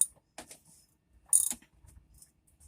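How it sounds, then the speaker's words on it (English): A hand ratchet tightens the rear bolts joining a boat engine to its stern drive plates, giving two short bursts of rapid clicking with quiet gaps between them, close and clear. "Ratcheting. On the back motor mount bolts"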